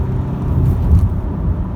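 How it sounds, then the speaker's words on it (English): A 2015 Honda CR-V with a 160 bhp engine and all-wheel drive, heard from inside as it accelerates hard through the gears, giving a steady, loud, low engine rumble and whir with no talking. "if we floor the car starting off in first, into second"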